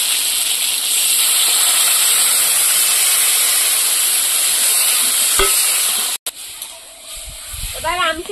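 Dried mango (amshi) goes into a pan of sour shol fish curry with potatoes, a loud steady sizzle and hiss that drops away abruptly near the end, with brief speech-like sounds after.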